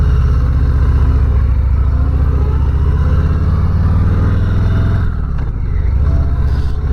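A 2023 Harley-Davidson Softail Heritage V-twin runs loud and close through its stock exhaust, a deep steady throb that holds firm before a brief dip and recovery near the end.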